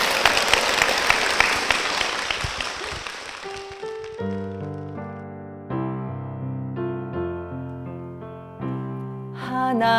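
A church congregation claps loudly for about four seconds, then the applause fades as sustained keyboard chords of a worship song take over.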